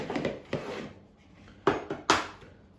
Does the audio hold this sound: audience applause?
no